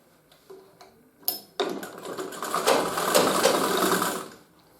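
A sewing machine runs a stitching line along a trouser seam during a gents' tailoring alteration, starting after a few soft clicks and whirring steadily and close for several seconds before stopping.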